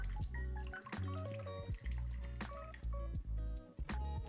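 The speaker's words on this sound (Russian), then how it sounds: "Наливаем с высоты, чтобы пенка и лишние пузырьки просто ушли." Warm beer pours from a height into a bowl while mixing a dough for aromatic rye bread, a steady liquid splashing and dripping heard under loud background music.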